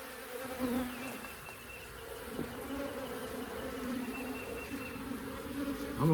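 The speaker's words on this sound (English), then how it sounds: "I'm going to smoke those bees out of that box and let them walk down into the hive." Honeybees buzz steadily from a Layens hive box as they are smoked out during the combining of two colonies, a dense insect hum that swells and fades throughout, with a faint high whine over it.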